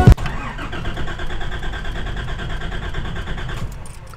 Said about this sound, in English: Oh, it doesn't even want to start now.